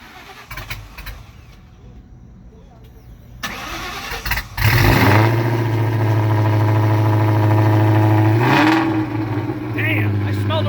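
A Ford Mustang Cobra, an 800-horsepower car running on racing gas, cranks briefly, then fires up with a loud roar that settles into a heavy, rumbling idle, while a voice is heard before and after the start.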